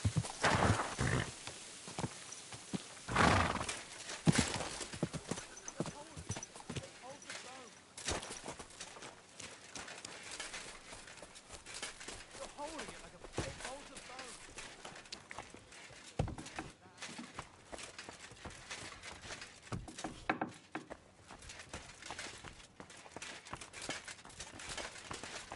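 Horse hooves clip-clop with occasional neighing in the medieval game Kingdom Come: Deliverance 2, heard as irregular moderate footfalls and bursts amid game noise, with quiet talk at times.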